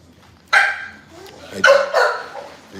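Several dogs bark at a bully breed dog in a few loud, close bursts: one sharp bark, then a pair of quick barks after a pause, with some yips between.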